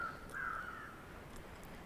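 A crow in the video game The Long Dark gives one drawn-out caw overhead, clear against a quiet wind-like ambience, followed by faint, distant calls.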